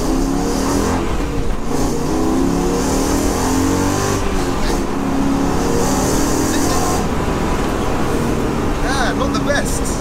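A 400bhp Mercedes C43 AMG track car, swapped to a 5.5-litre engine, roars loudly and steadily under acceleration on a launch run, its engine note rising, with voices talking over it.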